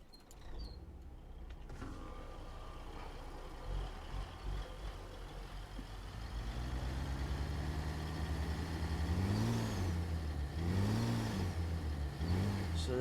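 A modded truck engine from the ZeeMods engine packs (C15, Cat 3406B, DD60 Series, N14) idles low in a trucking video game, then climbs into rising revs with repeated throttle blips near the end.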